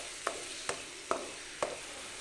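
Onion and green chili paste frying with mustard seeds, stirred with four evenly spaced clacks of a spoon against the pan over a soft, low sizzle.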